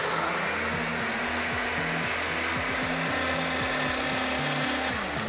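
A kitchen blender whirs steadily, churning a banana smoothie with ice in a continuous loud drone with a rattling, shifting grind, and no voices over it.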